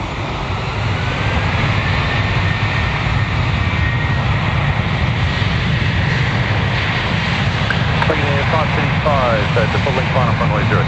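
Loud, steady jet engine roar from an airliner on runway 03 at Perth as it powers up for takeoff, a continuous broadband rumble filling the whole span with a faint whine over it.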